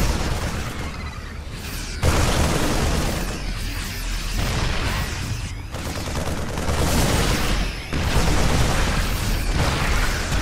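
A Terran planetary fortress is destroyed in StarCraft II amid a dense barrage of game explosions and weapon fire, with loud overlapping blasts and booms in sharp bursts throughout.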